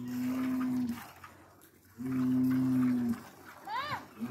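Cow mooing during milking, two long, loud, close moos about a second each separated by a pause, followed by a brief higher call at the end.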